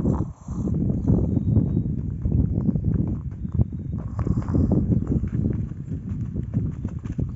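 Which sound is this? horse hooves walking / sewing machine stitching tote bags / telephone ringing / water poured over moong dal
horse hooves walking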